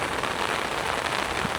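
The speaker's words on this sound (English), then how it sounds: "it is raining very hard today" Heavy rain pouring down in Da Nang, a dense, steady wash of drops close by with no pauses and no voices.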